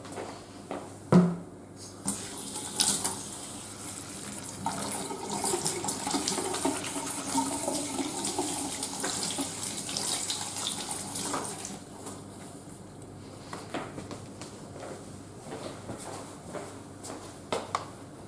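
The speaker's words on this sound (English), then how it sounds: "I'm just going to have to wash my hands now." Hands are washed under a running kitchen tap, with a steady stream of water splashing into a sink for most of the stretch, a few louder knocks near the start, and no talk.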